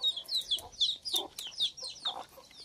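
Chickens and a rooster cluck close by in a quick, uneven series of short, bright calls that overlap one another, with no talking.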